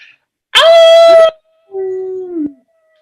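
A person on an online call imitates a wolf, giving two howls: the first loud and sustained, the second lower, softer and trailing off, each separated by silence.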